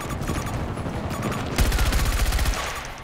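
An MTAR rifle fires rapid automatic bursts in a first-person shooter video game, with a loud, fast, even rattle of shots that peaks midway and is heard close up without talk.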